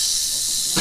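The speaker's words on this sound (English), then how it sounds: "Yeah, not a happy snake." An angry snake gives one continuous, sharp, loud hiss that lasts nearly a second and stops abruptly.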